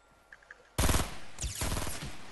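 Fortnite Battle Royale gunfire strikes the player as a loud, sudden burst of rapid shots after a few faint clicks, then a second volley that rattles on steadily to the end.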